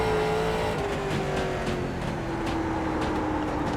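A late model race car engine drones loud and steady in the iRacing game at Concord Speedway, a sustained tone holding pitch and gradually dropping, with no talk over it.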